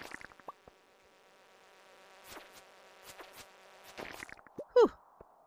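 Insects drone with a steady, thin buzz inside the mines of the Stardew Valley video game, holding low and even for several seconds before a few brighter clicks and a short swooping chirp break in near the end.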